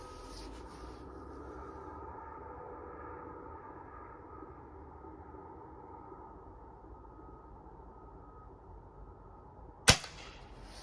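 A single sharp air-rifle shot from a Diana Mod. 54 Air King or Norica Omnia ZRS cracks near the end, loud and close after a long quiet stretch of low background hum.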